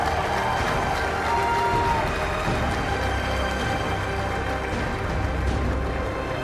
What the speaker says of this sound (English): Can you clap for yourselves, please?